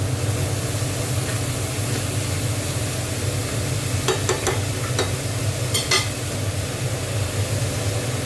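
Snakehead fish head and chopped bottle gourd stirred in a frying pan, with a steady broadband sizzle throughout and a few brief clatters of a utensil near the end.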